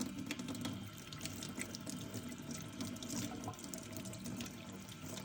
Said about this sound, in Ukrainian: Ретельно вимийте усі предмети, які будете стерилізувати.